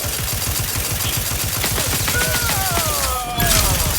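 Gunfire in the video game Outer Worlds 2 rattles in rapid, steady automatic bursts under a loud combat mix, with electronic tones sweeping across near the end before a heavier blast.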